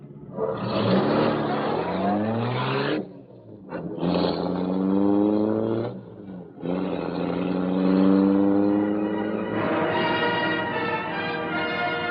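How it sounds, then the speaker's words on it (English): The Black Beauty, the Green Hornet's car in an old radio drama, roars to life: a loud engine revs up in rising surges with brief breaks, then holds a strong, steady roar as it speeds off. "The great car roared into life."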